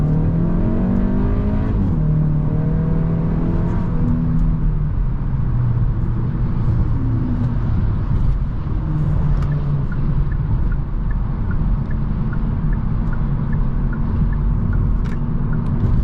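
A turbocharged 1.6-litre four-cylinder engine in a 2024 Hyundai Elantra N Line hums and revs steadily as the car drives, with a low, continuous drone and shifting pitch throughout.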